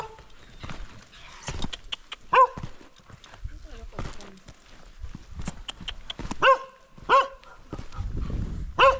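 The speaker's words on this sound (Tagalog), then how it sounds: "Bakit may aso?" A dog barks several times in sharp bursts, some nearby, amid people talking and footsteps on a muddy path in Sagada, Philippines.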